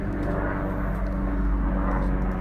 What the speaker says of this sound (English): there's a helicopter just going over